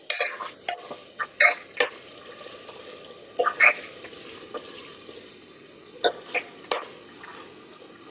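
A spoon stirs chicken with yogurt and spices in a pan over a low flame for a biryani. Irregular scraping strokes sound close against a soft, steady sizzle.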